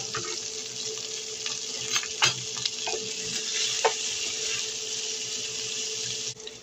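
Garlic and onion fry in a pan with a steady broadband sizzle, punctuated by a few brief scrapes or clinks of stirring; no voices.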